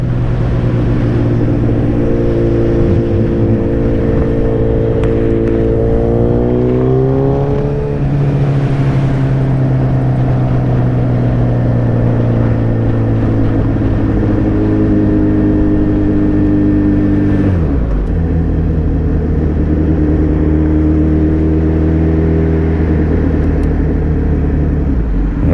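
A motorcycle engine drones loud and close for a long stretch, its pitch rising and falling with gear changes and a sharp shift near the end, with no talk.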